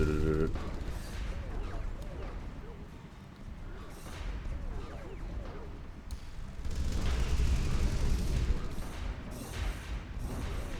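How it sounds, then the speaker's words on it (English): Rapid bursts of autocannon fire crackle and thud in a Stellaris space fleet battle, layered over a busy, rumbling mix with a swell toward the end. "See all the auto cannons going."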